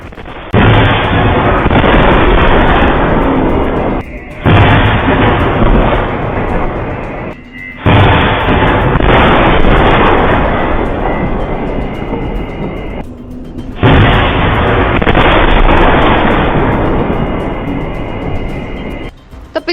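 Missile blasts during the May 10 India–Pakistan hostilities produce loud, sustained roaring rumbles in several long bursts of about four seconds each, separated by short near-silent gaps, heavy and close.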